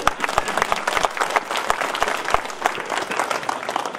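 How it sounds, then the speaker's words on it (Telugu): An audience breaks into loud, sustained applause, many hands clapping at once in a dense patter. "నిజంగా మీరు గట్టిగా చప్పట్లు కొట్టాల్సిన విషయం"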